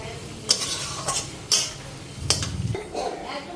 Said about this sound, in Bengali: মাছগুলি তো আগেই ভাজা ছিল মশলা দিয়ে এখন ভালো করে ফ্রাই করে নিই